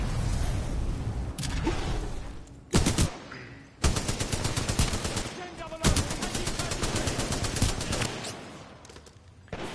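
Spitfire light machine gun firing in Titanfall 2, with sustained loud bursts of rapid automatic fire broken by brief pauses and sharp onsets, over busy game background noise.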